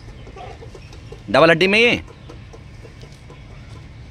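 An aseel rooster of home breed gives a short, loud burst of clucking calls lasting under a second, close by, with someone talking quietly before and after.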